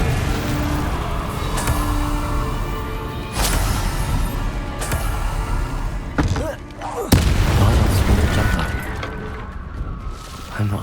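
An Expelliarmus spell is cast in the video game Hogwarts Legacy among a string of booming, shattering spell impacts, with loud bursts and crashes over a constant game soundscape.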